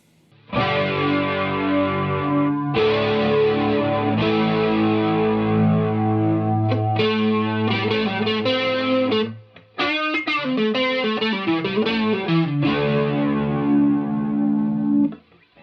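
Clean electric guitar through an affordable amp and pedal setup, a modulation effect adding wavering chorus-like shimmer to strummed chords and single-note lines, loud and close with a brief pause near the end.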